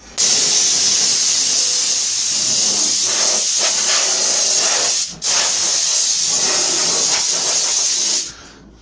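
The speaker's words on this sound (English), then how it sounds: "I'm just going to blow everything down, even the stuff up there." A loud, steady hiss of compressed air blowing dust off surfaces in a kitchen being fitted, in two long bursts separated by a short break, close up and with no voices.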